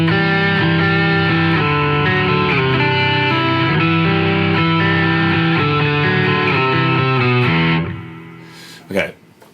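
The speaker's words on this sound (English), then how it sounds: "let's start off with what they call their normal multiband distortion" An electric guitar runs through a Source Audio Multiwave distortion pedal in normal multiband mode, playing thick, saturated sustained chords loudly for several seconds before cutting off, followed by a brief knock.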